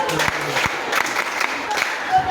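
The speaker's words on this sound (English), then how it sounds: "Let's clap for you." Students at a Right Values Club inauguration at JSS Jikwoyi clap together, a loud, uneven patter of hands with some crowd noise and scattered voices mixed in.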